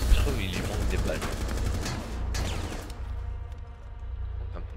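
Machine gun fire in a video game: dense, rapid automatic bursts that are loudest at the start, then a steadier rattle that continues to the end.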